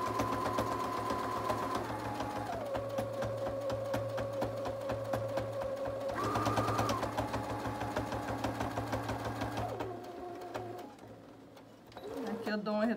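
A sewing machine runs a straight stitch through several layers of fabric for a brush holder, humming and rapidly ticking close by for most of the time, briefly slowing near the end while a person speaks over it.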